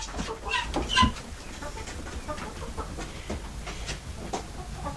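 Guinea fowl cluck and call in a pen, young birds almost old enough to be let out, with overlapping chirps and squawks spread through the clip at moderate loudness and one louder burst early on.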